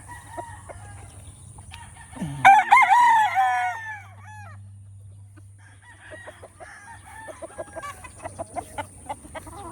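At a gamefowl farm, a rooster lets out one loud, close crow, followed by softer clucks and chicken calls scattered around, with a low steady background hum and no talking.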